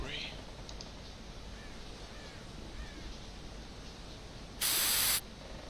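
Ice spray discharged in the point-and-click game Secret Files 2: one loud, steady hiss lasting about half a second, standing out over quiet background noise near the end.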